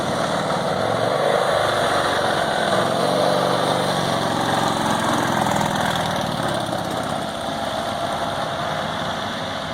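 A Tiger Cat three-wheeler powered by an 80 cubic inch, 65 horsepower Harley engine runs close by with a loud, steady, throbbing drone that holds even throughout.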